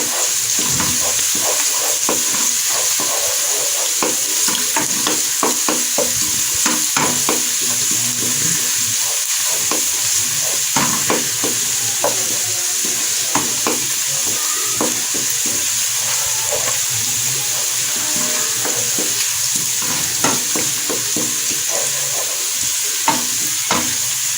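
Garlic ginger paste sizzles and crackles in a hot pan while cooking masala kaleji, a steady loud frying hiss with occasional stirring scrapes throughout.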